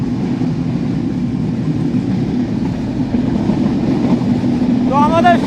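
A Panchagarh Express broad-gauge LHB rake runs at speed, giving a steady loud rumble and rhythmic wheel noise heard from on board, with a brief squeal near the end.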